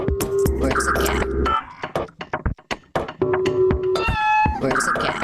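A cat indoors gives a few close meows, separated by short gaps with other sounds and voices in between.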